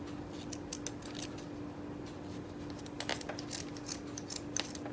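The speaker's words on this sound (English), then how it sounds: "Let me start cutting these strings." Scissors snip through beading strings in a quiet indoor craft setting while a tassel and cross are being finished, giving a series of small, crisp clicks and cuts of varying density over a steady low hum.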